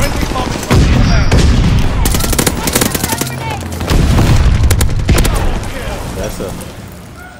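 Bombing-run explosions in Call of Duty Vanguard multiplayer: a loud, dense barrage of booming blasts and rattling gunfire rolls in waves over about seven seconds, close and heavy, while a player talks briefly.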